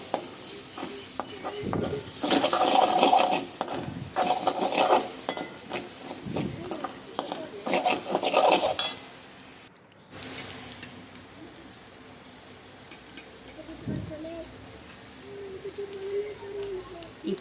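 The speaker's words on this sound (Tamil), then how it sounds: "இப்போ நல்லா கிளறி விட்டுக்கோங்க." A spoon stirs vegetable rice in a pot, with scraping and clinking that come and go, louder in the first half and then quieter, under a voice talking.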